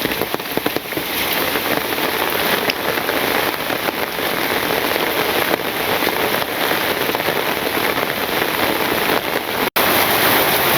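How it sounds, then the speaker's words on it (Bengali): Heavy rain pouring on a rainy day in a village, a dense, loud and unbroken hiss of drops striking surfaces with scattered sharper patters, nearby and with no speech. "বৃষ্টি আরো জোরে নামছে"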